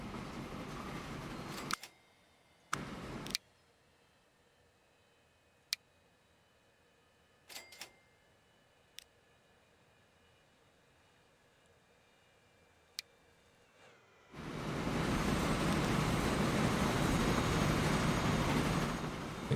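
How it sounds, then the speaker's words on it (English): A grain train on the Shanghai line rolls through the Transport Fever 2 game world: a steady, loud rumble rises in the last few seconds, after a quiet stretch broken only by a few sharp clicks. "Right, the old Shanghai grain train."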